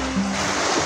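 Sea waves wash past in deep water while out on a boat watching dolphins, a brief, close rushing surge of water with a low steady roar.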